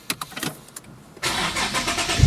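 Infiniti G37 engine warm start outdoors on a hot day: a few faint clicks and taps, then the starter catches and the engine fires up abruptly into a loud, close, steady idle.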